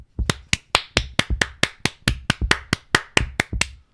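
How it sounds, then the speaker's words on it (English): A single person's hand claps, slow and deliberate, about sixteen sharp, evenly spaced claps close by with no talking. "That's a sarcastic clap, by the way."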